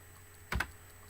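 Two quick key presses on a computer keyboard, close and fairly soft, typing a short entry into a flash card study app in a quiet room.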